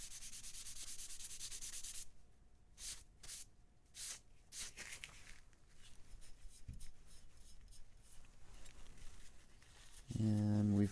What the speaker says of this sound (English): And back to the dry paper towel again.